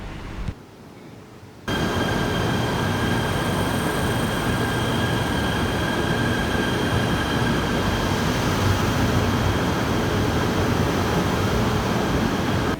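A KTM commuter train at a Kuala Lumpur station platform rumbles continuously at close range with steady rolling roar and faint high squeal, starting abruptly after a quieter moment.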